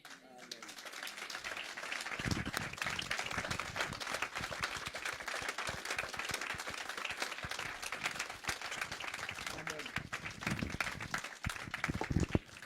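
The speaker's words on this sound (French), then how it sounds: "On applaudit le Seigneur." A church congregation claps and applauds at an ordination service, dense clapping that swells after the first couple of seconds and stays lively, with voices mixed in beneath.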